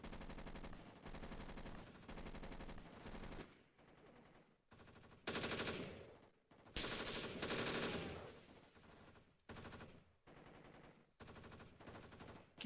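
Bursts of automatic and rifle fire from an infantry squad assaulting west up a hill toward an enemy position, loud and close, coming in repeated volleys separated by short pauses.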